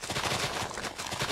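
Rapid, machine-gun-like bursts of shovel digging in Minecraft, a quick run of crunchy block-breaking hits repeating close and loud with no talking.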